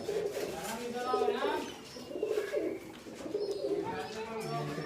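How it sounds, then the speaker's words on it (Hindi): French pigeons coo in repeated soft, rolling phrases at close range in a breeding loft, while someone talks over them. "फ्रांसीसी कबूतर है।"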